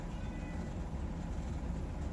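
A house cat meows repeatedly in soft, close, short calls over a faint indoor background.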